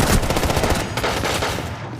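Rapid gunfire from Rainbow Six Siege, a dense, loud burst of automatic shots filling the full two seconds with steady rhythmic reports and no talking.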